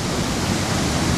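Tantya Mama waterfall beside a cave, a loud, constant rushing roar of falling water heard close up and steady throughout, with no voices.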